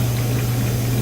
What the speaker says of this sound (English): what you are hearing is the dryer running right now